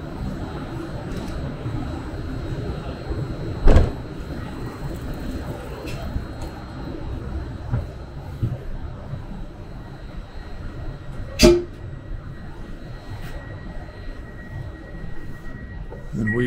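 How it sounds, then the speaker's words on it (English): Inside a first-class train carriage on a route from Belgrade to Niš, Serbia, a steady low rumble continues, with a few louder knocks and clunks along the way. "So here we have our train to Nice"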